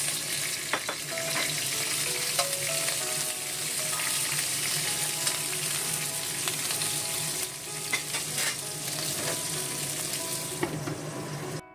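Twisted chili peppers sizzle and crackle steadily in hot pork fat, with occasional scraping stirs from a utensil, close and continuous.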